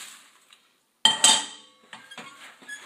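Biscuits tipped into a bowl of chocolate mixture for homemade chocolate bars: a brief quiet scrape, a pause, then sharp clinks and clatter against the bowl followed by smaller scraping knocks as the mix is stirred.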